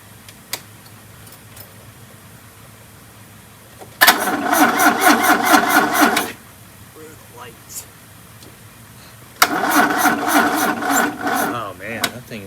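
A 1978 Fiat Spider engine that sat for 30 years cranks over sluggishly on a weak battery in two separate bursts of rhythmic churning, loud and close, with quiet gaps between.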